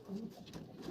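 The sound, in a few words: pigeon cooing at racing pigeon loft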